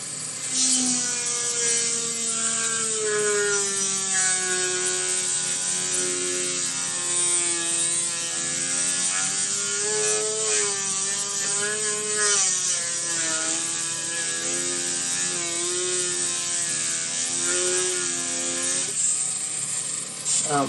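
A small rotary tool whines as it carves a hand-made cat figure, a close, steady high whir that rises and dips in pitch with the load over about twenty seconds of continuous work.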